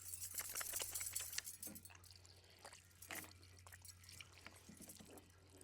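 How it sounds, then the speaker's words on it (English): Hands washed quickly under running water outdoors, a soft steady trickle and drip with faint splashes over a low constant hum. "Wash my hands really quickly."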